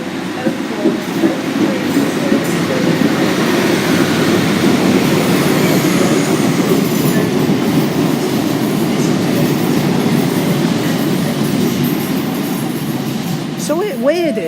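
A Virgin Pendolino train of 11 coaches rolls through Stockport station, a loud, steady rumble with rhythmic wheel clatter sustained close by throughout, ending with a brief squeal.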